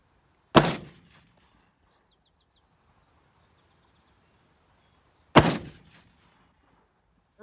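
Remington Model 8 rifle fired at targets at 30 yards: two sharp, loud reports several seconds apart, each with a short decaying echo, quiet between shots.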